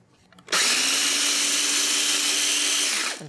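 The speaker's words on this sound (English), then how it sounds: "and just grind these up" A small electric grinder with a sharp blade whirs up loudly, buzzing steadily as it grinds a cup of oats with a pinch of salt into flour, then cuts off after about three seconds.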